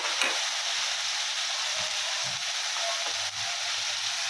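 Mutton sizzling loudly in a hot frying pan while being stirred, a constant bright hiss with occasional scraping and clinking from the stirring, close up and without talk.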